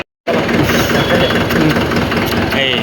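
A farm tractor's diesel engine starts up abruptly and keeps running at a loud, steady clatter close by, filling the whole stretch after a brief moment of silence.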